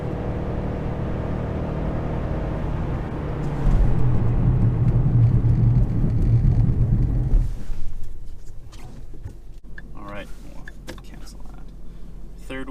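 A Ford Mustang S550 with upgraded Brembo brakes braking hard from 60 mph: a loud, steady vehicle rumble builds and holds for a few seconds, then drops away as the car slows, followed by quieter talking.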